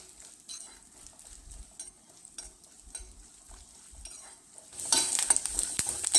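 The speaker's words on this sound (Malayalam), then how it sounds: "വെളിച്ചെണ്ണ ചൂടായി വന്നപ്പോഴത്തേക്കും ഞാൻ തേങ്ങയുടെ ആ ഒരു കൊത്ത് ഇട്ട് കൊടുക്കുകയാണ്" Coconut pieces fry in hot coconut oil for a Kerala-style beef curry, giving a faint steady sizzle that swells sharply louder near the end as fresh pieces hit the pan, with light stirring clinks.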